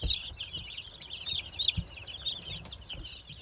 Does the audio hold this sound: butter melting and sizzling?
no